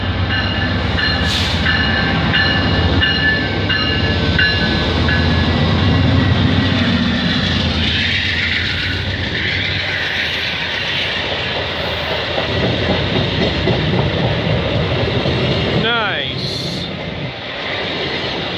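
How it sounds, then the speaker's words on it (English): VIA Rail passenger train 79 departs Aldershot station behind locomotive 909, giving a loud sustained diesel engine roar and rumbling wheels that ease off later, followed near the end by a rising and falling horn-like tone. "we got Via 79 departing Aldershot Station"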